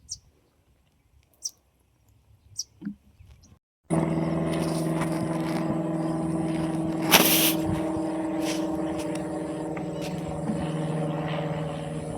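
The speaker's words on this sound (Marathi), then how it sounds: "इथं आकाशाचं विमान चालले बघा दिसतंय का" In a cucumber field, after a few seconds of near-quiet with faint bird chirps, a steady engine drone sets in and continues as an airplane passes overhead.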